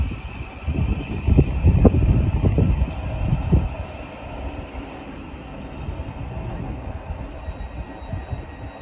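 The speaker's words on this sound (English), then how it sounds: "now departing is this Thameslink 700" A Thameslink Class 700 electric train departs London Bridge, giving a loud rumbling roll with rhythmic wheel thumps early on that settle into a steadier, quieter hum as it pulls away.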